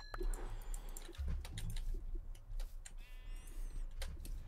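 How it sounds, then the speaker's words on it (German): Sheep bleat in the farming game Purple Town, with short bleats scattered over a busy bed of game music, chirps and ambient noise, all at a moderate, steady level. "Noch ein Schaf, oh Mann!"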